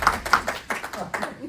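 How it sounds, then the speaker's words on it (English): A few people in a class clap in short, irregular bursts, close and fairly loud, with a voice talking over part of it. "I think we should applaud."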